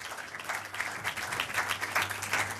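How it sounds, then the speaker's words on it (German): Audience in a cinema applauding to welcome the film director after a screening, a soft, even patter of clapping from a seated crowd, moderately distant, with a low steady hum beneath. "Ein Applaus."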